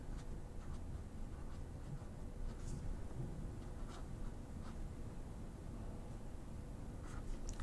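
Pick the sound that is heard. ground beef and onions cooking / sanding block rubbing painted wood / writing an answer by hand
writing an answer by hand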